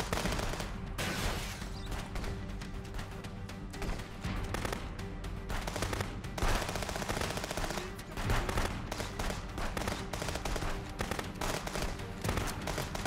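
Rapid, continuous bursts of gunfire in the video game Contraband Police crackle throughout, dense and loud, with a few heavier booms mixed in.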